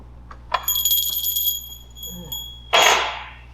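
A bright bell rings with a sustained metallic tone, followed by a short pause and then a burst of harsh noise, with faint murmuring in between.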